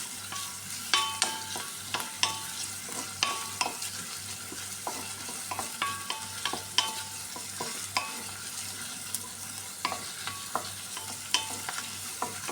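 Garlic and onion sautéing with ground meat for ampalaya and giniling, a constant oily sizzle punctuated by sharp clacks and scrapes of a spatula against the pan at an irregular rhythm, close up and without voices.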